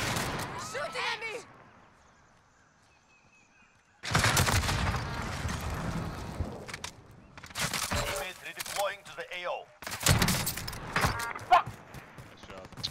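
Video game gunfire from a Warzone match: bursts of shooting start suddenly and come in loud, dense clusters separated by short pauses, with a quiet stretch before the first burst.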